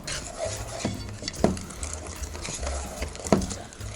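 Biscuit batter whisked in a bowl that is turned while mixing, a soft continuous scraping and stirring with a few sharper clinks of the whisk against the bowl.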